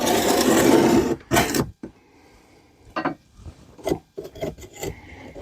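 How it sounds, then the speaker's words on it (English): A scraper rasps old gasket material off metal during heater core work on a 1979 Ford F100, a loud grinding scrape at first, then a series of short, sharp scraping strokes separated by brief pauses. "Okay, so I got a scraper. We'll just get all this old gasket material and everything out of the way."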